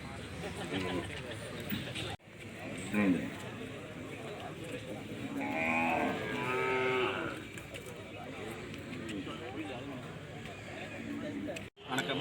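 A two-day-old heifer calf lows at the Palaya Kottai cattle market for Kangeyam cattle, its drawn-out moos rising close by over people talking and other livestock.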